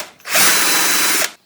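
A power drill with a spade bit bores an eye hole in a large wooden diving lure for mulloway, a single loud, close, high whirring burst lasting about a second.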